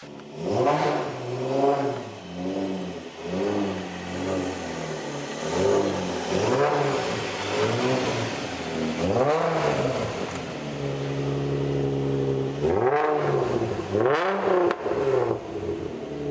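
A Nissan 350Z engine idles and revs repeatedly while warming up, the pitch rising and falling in surges, fairly close and steady throughout.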